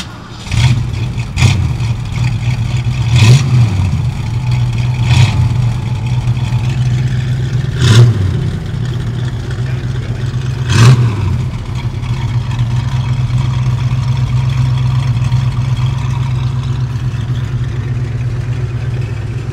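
A 1964 1/2 Ford Mustang with a 289 V8 and four-speed fires up and runs with a steady, loud rumble, punctuated by several sharp blips of revving spaced a few seconds apart.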